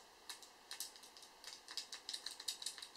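Crisp clicking of reed-switch keys on an Olympia CD401 Nixie calculator pressed one after another in an uneven rhythm, close and fairly quiet, with no talking.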